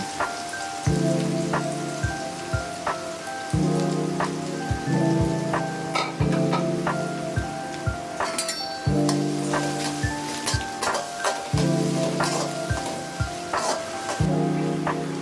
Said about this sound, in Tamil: வெங்காயம் நல்லா பொன்னிறமாக வதங்கி வர அளவுக்கு விட்டுருங்க